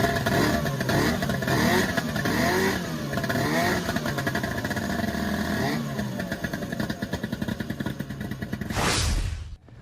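Vintage snowmobile engines at the Winona ride run loud and close, a rough two-stroke drone rising and falling through revs with a steady burbling idle, then a sharp burst of noise at the end.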